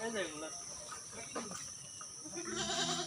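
A Haryana cross goat bleats a few times nearby over a steady background of chirping insects.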